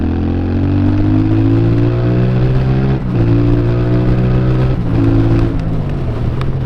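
A CFMOTO 450MT motorcycle pulls hard in third gear from around 4000 rpm, its engine note climbing steadily and loud up close, with a brief dip near the midpoint before rising again.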